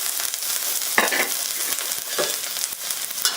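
Ginger and chopped garlic stir-fried in hot cooking oil, a loud close crackling sizzle broken by clanking scrapes of a spatula against the pan.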